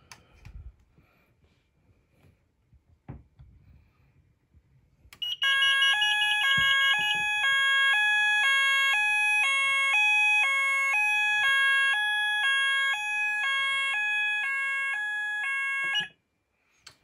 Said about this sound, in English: let's give the heat detector a test.